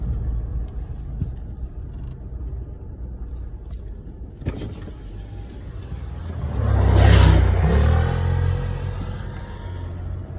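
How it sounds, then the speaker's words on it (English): An ATV loaded with plywood approaches and passes on a dry sandy forest road, its engine rising to a loud rumbling peak close by before fading, with quiet outdoor ambience around it. "Oops, here comes an ATV"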